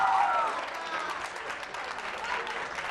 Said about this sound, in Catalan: També un aplaudiment.